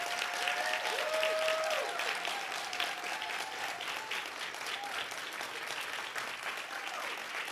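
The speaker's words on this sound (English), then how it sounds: "Let's honor them with a hand applause on today." Audience applause for honorees at a ceremony recognizing Historic Westside Legacy Park inductees and African American trailblazers, a steady, fairly distant wash of clapping that holds throughout, with faint tonal sounds and possible voices beneath it.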